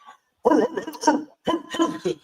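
A person imitates a barking dog with a series of loud, gruff woofs in two bursts, close and forceful.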